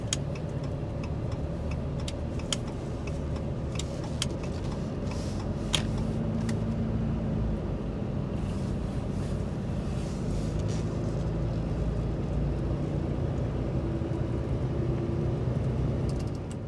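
A heavy truck hauling a load of pipes pulls away on an industrial road, its engine a steady low rumble throughout with faint rattles and ticks on top.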